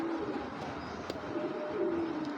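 Grizzle pigeons coo low and steadily at close range, their soft rolling calls running under a constant background hum with a few faint clicks and no talking.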